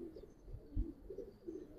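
Young Giribaz pigeons, never yet flown, coo softly in low, rolling murmurs that rise and fall in a few soft swells, with faint bumps of handling noise underneath.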